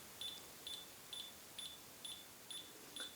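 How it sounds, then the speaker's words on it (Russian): DeWalt DW03101 laser rangefinder emitting faint, short, high beeps at a steady rhythm of about two per second while measuring continuously in a quiet room. "Прибор пищит, он меряет непрерывно."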